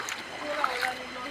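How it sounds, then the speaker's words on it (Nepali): Flowing water of a small village stream, a narrow branch split off from a larger river, with a steady broadband rush and light splashes, quiet and close, while voices talk faintly over it. "हाम्रो खोला"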